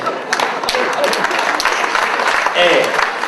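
Audience applause at a New Year's greetings event in a theatre, dense clapping mixed with voices from the crowd, loud and close throughout.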